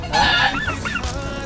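A turkey lets out one loud, close gobble, a short warbling burst of rising and falling calls that fades quickly.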